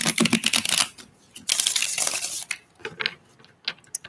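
Tarot cards are riffled and shuffled in quick crisp bursts, pausing briefly between rounds, close and fairly loud.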